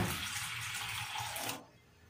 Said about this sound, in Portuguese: Eu vou aqui nesse refratário, vou colocar água.